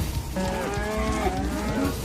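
Several cows moo loudly and close, their long drawn-out calls overlapping one after another through the whole stretch with no other sounds in between.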